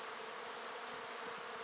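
Bees buzzing around a bait hive box in a spring bee yard, a faint, steady insect drone with no voices, continuous throughout.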